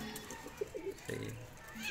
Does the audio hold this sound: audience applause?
no